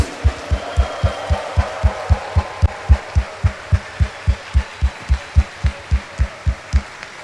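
Church congregation at Mass claps together in a steady unison rhythm, about three claps per second, each crisp and evenly spaced over a quiet hall background.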